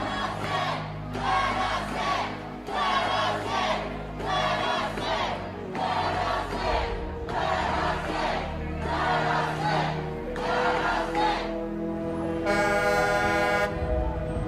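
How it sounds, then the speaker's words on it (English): A crowd of a couple thousand protesters on a state Capitol lawn roars and chants in regular swelling bursts, loud and continuous, ending with a sustained horn-like blast. "show you a look at this crowd, at least a couple thousand people here on the Capitol lawn"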